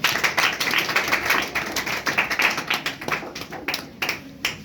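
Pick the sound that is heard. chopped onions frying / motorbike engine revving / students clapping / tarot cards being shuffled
students clapping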